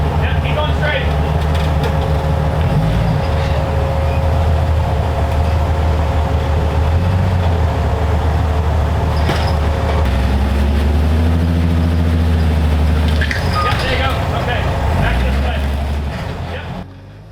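An off-road vehicle crawls over a technical rock garden, its engine droning steadily and loud with low revving swells as it climbs, while people talk over it throughout.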